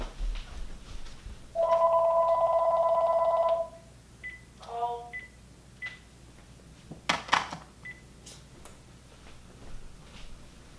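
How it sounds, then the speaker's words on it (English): A telephone rings indoors with one steady electronic trill lasting about two seconds. Brief beeping tones and clicks follow, and faint room noise sits underneath. "Oh, the phone's ringing."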